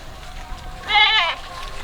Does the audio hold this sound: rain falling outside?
no